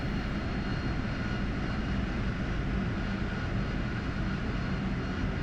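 A jet aircraft engine idling in the flight sim DCS World, a steady, loud broadband whine and rumble that holds constant the whole time, with no voices.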